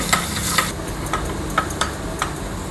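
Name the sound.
garlic frying in hot oil for chutney tempering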